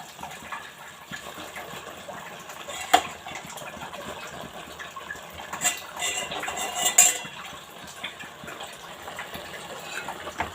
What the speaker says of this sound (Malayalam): ആവശ്യത്തിലുള്ള ഉപ്പ് കൊടുത്ത് നല്ല തിളച്ച് വരുമ്പോൾ റെഡിയാക്കി വെച്ചിട്ടുള്ള ചീരേൻ്റെ ഇല ഇട്ട് കൊടുക്കാം